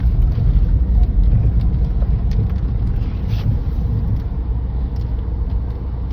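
A vehicle engine runs with a steady deep rumble while the vehicle reverses, loud and close, with faint jangling on top and no talk.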